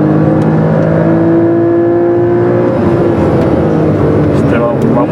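A Porsche Cayman S PDK revs and accelerates with a rising, droning whine on the Portimão circuit, loud and close, as a commentator talks over it.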